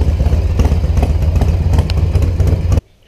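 A Harley-Davidson Softail engine runs loud and close with a deep, lumpy idle and steady rumble, continuing for nearly three seconds before cutting off abruptly into silence.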